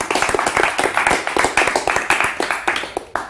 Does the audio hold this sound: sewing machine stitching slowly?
no